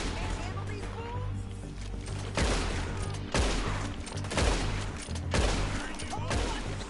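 Gunfire in Red Dead Redemption 2 cracks out in several loud, sharp bursts spaced a second or so apart over a steady backdrop of game ambience and music, with voices from the game mixed in.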